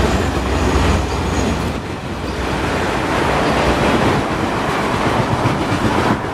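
A train passing on a railway line near Belmont Station in the Bay Area, loud continuous rumble and rolling roar with faint clickety-clack, close by and steady with no voices.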